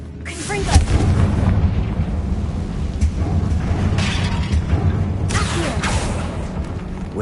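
Confringo fire spells blast in a tomb in the Hogwarts Legacy video game, two sharp fiery bursts over a low, rumbling ambient backdrop.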